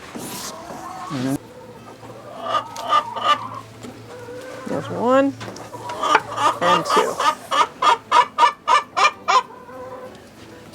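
Hens cluck in a farm chicken coop, with scattered calls rising into a fast, rhythmic run of loud, close clucks, and a person speaking briefly at the start.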